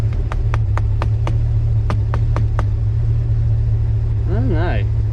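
A mystery 350 small block V8 idles steadily in a 1946 Chevy pickup, a constant low rumble throughout with sharp repeated ticking clicks early on and someone talking briefly near the end.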